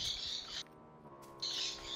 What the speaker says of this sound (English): My bird is going crazy